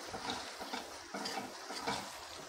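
Ground whole spice masala frying in a pan, soft steady sizzle with rhythmic stirring strokes, faint and close, no voices.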